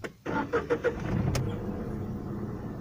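A Tata Tigor car with a new battery cranks with a few quick rhythmic turns, then its engine catches and settles into a steady close idle.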